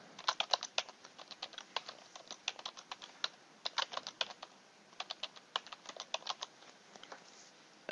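Keys on a computer keyboard tap out a password in quick irregular bursts with short pauses between, crisp and close in an otherwise quiet room.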